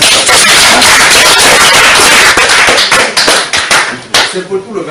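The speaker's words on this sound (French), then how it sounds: "Applaudissez." A church congregation breaks into loud, dense clapping that fills the space for several seconds, then thins into looser individual claps near the end.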